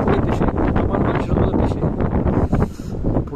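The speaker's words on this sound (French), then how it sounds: "un vent de fou" Strong wind buffets the microphone at a lakeside campsite in Eidfjord, Norway, a loud continuous roaring rush with gusty swells throughout.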